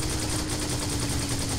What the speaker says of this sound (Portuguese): Atira, mano.